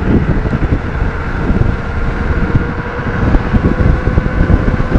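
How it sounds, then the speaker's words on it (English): Strong headwind buffets the microphone on a moving wired eBike with a shunt mod on fairly level ground, a loud, steady broadband rumble with gusting surges throughout and no talk. "Yeah, pretty strong headwind."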